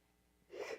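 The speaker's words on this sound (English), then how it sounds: "I have a sneeze coming." A single sneeze burst near the end after a quiet stretch, short and close with a sharp breathy onset.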